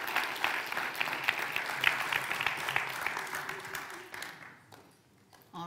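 Audience applause for a junior chef at a cooking competition, a steady wash of clapping from a moderate-sized crowd that fades out toward the end, with a brief murmur afterward.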